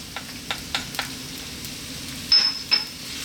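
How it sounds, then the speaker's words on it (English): Chopped onion and garlic fry over high heat in olive oil in a wok, a soft steady sizzle with a few light stirring scrapes and two brief metallic clinks near the end. "I'm going to drop in our chopped onion and our garlic."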